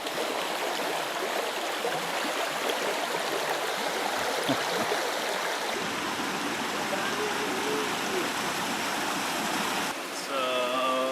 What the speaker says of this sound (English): One takes you to this disappearing waterfall. It disappears under the rocks and then reappears a little bit later.